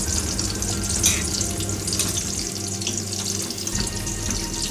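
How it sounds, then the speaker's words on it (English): Water is poured into a simmering drumstick curry, giving a close, steady splashing pour over a sizzling pot that continues for several seconds. "So I am adding little bit of water."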